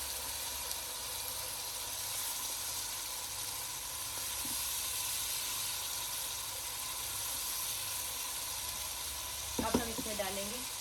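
Bay leaves and curry leaves sizzle in hot oil with softened onions, a steady close hiss of frying throughout, with a brief louder crackle near the end.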